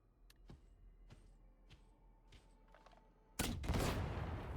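An Ogryn Grenadier Gauntlet grenade launcher in a video game fires several sharp spaced reports, then a loud, roaring explosion bursts near the end.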